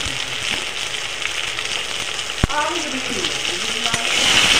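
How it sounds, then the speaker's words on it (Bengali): Spice paste of ground cumin, nigella, radhuni, green chilli and turmeric sizzles in oil in a pan with fried taro, a steady hiss broken by a single sharp clink, with a voice speaking faintly underneath. "ভালো করে মশলাটা দিয়ে কষিয়ে নেব"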